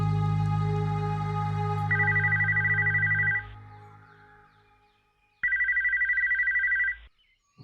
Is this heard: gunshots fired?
no